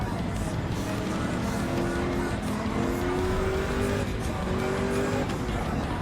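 A Saber car from a racing video game, said to drive like an F1 car, races with a steady engine whine and tire squeal. The noise runs loud and continuous throughout.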